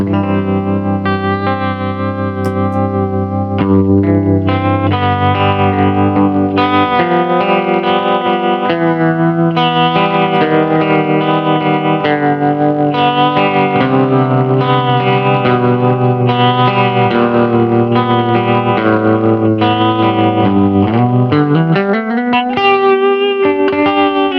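Electric guitar played through a pedalboard into a Plexi amp, sustained chords and notes with heavy effects, reverb and echo, loud and continuous with a sliding pitch rise near the end, no talking.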